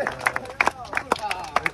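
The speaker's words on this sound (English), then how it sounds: "Give applause to Nando because he got the gold medal in SEA Games." An audience applauding Nando for his SEA Games gold medal: a short patter of claps in an irregular rhythm, spread across the room, mixed with crowd murmur and talk.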